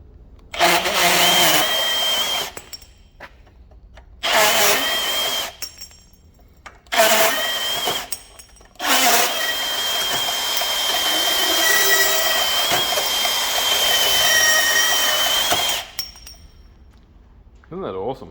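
A Milwaukee M18 cordless brushless band saw cuts through tubing clamped in a bench vice, in several loud, close cutting bursts, the last one a long continuous cut.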